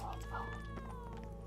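A cat meows once in the game Witcher 3: Blood and Wine, a brief tonal cry over steady low in-game background hum.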